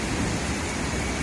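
Heavy rain pours in a dense, steady roar in Gudalur in the Nilgiris during a thunderstorm, with deep low rumbling underneath the continuous hiss.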